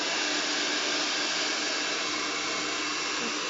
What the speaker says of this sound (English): keeping the hairdryer above my head